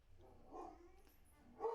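Several dogs bark, yip and whimper in the background of a room, faint and distant, in short irregular bursts with a louder flurry near the end.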